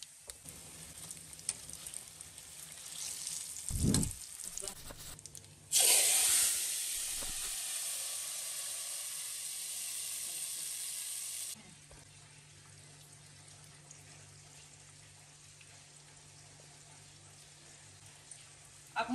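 Seeds hit hot ghee and burst into a loud, steady sizzle that hisses for several seconds, then settles into a softer crackle.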